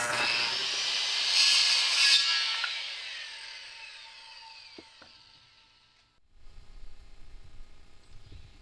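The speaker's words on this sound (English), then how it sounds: "I make a small cut in the plywood" A saw cuts a small slot in plywood with a loud, harsh whine that fades gradually over several seconds, followed by a few faint clicks and a low rumble near the end.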